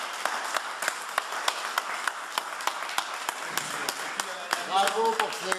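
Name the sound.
audience applause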